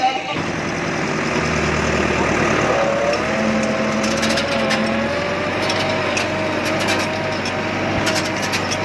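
Massey Ferguson 385 4x4 tractor with its diesel engine running steadily up close, a constant loud chugging hum with faint clatter, while someone talks over it.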